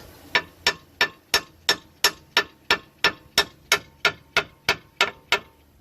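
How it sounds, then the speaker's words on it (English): Rapid, even metallic taps of a hammer lightly tapping an axle bolt on a 2016 Hyundai Tucson front axle, around twenty light strikes in a steady rhythm, close and crisp with short ringing decays. "you take your hammer, just lightly tap it"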